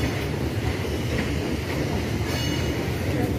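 Train noise at New Jalpaiguri railway station in India, a loud continuous rumble of rolling rail cars with faint wheel clatter, steady and close, with no talk over it.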